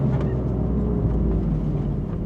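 BMW M4 GTS with 500 horsepower under way, its engine a steady, loud, dense rumble heard from inside the cabin, holding level throughout without distinct revs.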